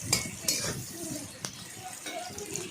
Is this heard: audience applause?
no